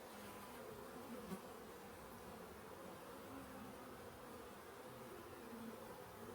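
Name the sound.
honey bees buzzing at the hive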